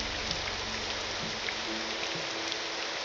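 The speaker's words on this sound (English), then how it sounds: "It even rains beautifully here." Steady rain falls in the Morrowind video game, a soft, even patter that holds at moderate level throughout with no voices.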